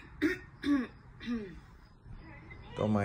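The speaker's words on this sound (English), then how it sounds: "Don't mind her coughing." A woman coughs and clears her throat several times in short, separate bursts close by, followed by a brief voiced sound at the end.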